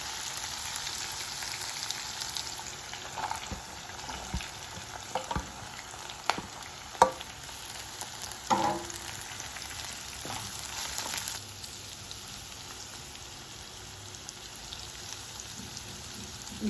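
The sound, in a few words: carrot and capsicum frying for wheat rava upma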